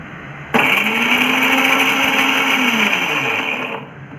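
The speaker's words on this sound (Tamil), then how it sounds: "இப்போது இந்த தேங்காய் வந்து சின்ன சில்லாக வெட்டி நம்ம வந்து மிக்சியில் ஆட் பண்ணிக்கலாம் இதை வந்து நம்ம இப்போ பல்ஸ் பண்ண போகிறோம்" Kitchen mixer grinder running on small coconut pieces for chutney, switching on abruptly into a loud, steady whirring motor whine that holds for about three seconds before cutting off.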